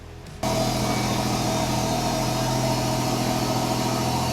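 A 4x4 car's engine starts idling after a brief quiet moment, then holds a loud, steady, continuous hum close by.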